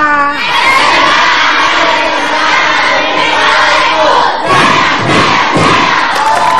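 A studio audience at an Indonesian comedy talk show roars a loud, sustained shout of 'yes' in greeting, a dense crowd of voices filling the room near and loud throughout.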